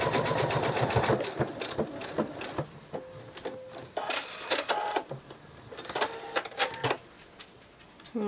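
A sewing machine stitches the two halves of a penguin plush's beak in short bursts of rapid mechanical whirring, stopping and starting with brief pauses between runs, close and clear.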